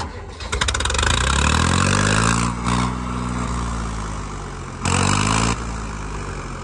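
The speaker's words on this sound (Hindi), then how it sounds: "पूरी रोर मचा रहा भाई ट्रैक्टर" A 2024 Swaraj 855 tractor engine roaring loud and raw with no silencer, revving up in bursts with a harsh rattling growl that rises and falls.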